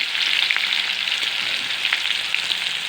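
Chopped onions with cumin sizzle in hot oil, a steady close frying hiss with small popping crackles and no voices.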